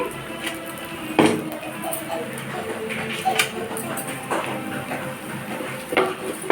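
Egg dosa made with chickpea flour batter frying in a little oil on a pan, a soft steady sizzle with occasional clinks of a utensil against the pan, close and continuous at moderate level.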